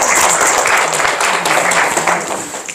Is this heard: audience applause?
yes